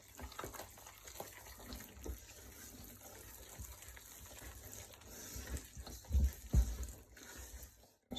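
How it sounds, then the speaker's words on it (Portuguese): Water is poured from a container into flour for sourdough bread dough, a soft steady gushing and splashing close by with a few louder thumps near the end. "Você vai jogar toda a água e vai misturar com as suas mãos."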